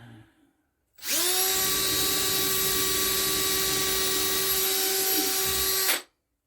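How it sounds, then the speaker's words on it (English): A power drill with an extra-long bit drills down through a layout, running steadily at high speed for about five seconds, a loud sustained whine that starts and stops abruptly. "I'm taking my extra long drill and I'm coming over here and I'm going to drill down."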